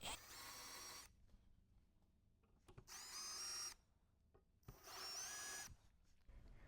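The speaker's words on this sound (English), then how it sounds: "just need to drill for a second like that" Three short bursts of a power drill whirring at high speed, each about a second long, drilling into the rear hatch of a Volkswagen MK8 GTI, separated by quiet pauses with faint background noise.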